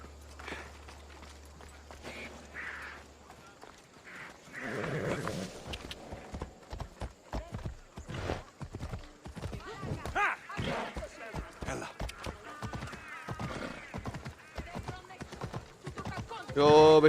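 Hooves clip-clop at a quickening pace in Assassin's Creed Odyssey, shifting from a walk to a running gallop, with a person talking over the hoofbeats.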